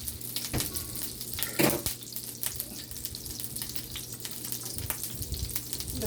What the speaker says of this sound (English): just gonna drop a piece of butter in, and just gonna saute